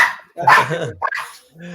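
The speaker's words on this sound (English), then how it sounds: "Sorry about the dog barking." A dog barks close by, a few sharp yelps and a growl in quick succession, loud and alone.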